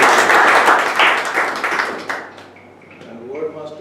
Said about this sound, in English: and giving a big round of applause.